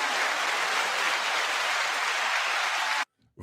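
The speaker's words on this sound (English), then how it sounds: "9 second applause" Roughly three seconds of dense, loud applause in a live studio setting, steady throughout, cut off abruptly into near silence.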